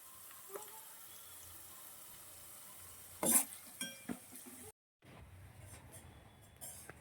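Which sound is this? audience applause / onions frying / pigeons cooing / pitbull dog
onions frying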